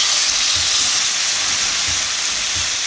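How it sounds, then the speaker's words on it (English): Steady loud sizzling hiss of steak searing in hot butter in a pan, continuous and close, with no voices. "That's the sound of it searing on the outside"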